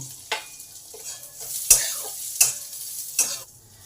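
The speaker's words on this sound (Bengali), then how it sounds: "তেলটা গরম হলে কাজু আর কিশমিশ অল্প করে ভেজে নেব।" Cashews and raisins frying lightly in a little hot white oil in a wok: sharp spoon scrapes and clinks recur every second or so above a quieter sizzle.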